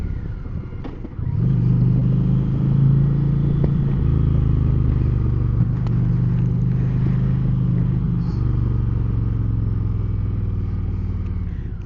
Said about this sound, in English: put it in sixth gear in that 70-mile range, and then roll on the throttle to see if I had the passing power that I need